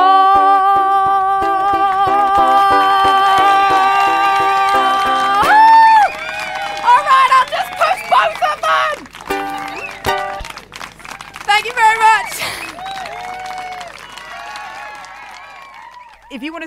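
An audience cheers and applauds loudly at the end of a song about a dual-flush toilet, with sung music giving way to bursts of clapping, shouts and crowd noise.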